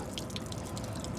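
Water draining out of the tank of a Dometic RV water heater with its plug pulled, a steady close trickle and dripping splash with no talk over it.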